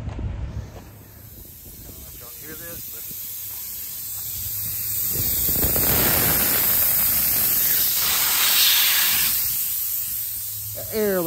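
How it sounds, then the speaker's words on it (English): A truck brake chamber leaks air in a steady broadband hiss that swells louder mid-clip, with a person speaking briefly near the start and again at the end. "Air leaking out of that brake chamber."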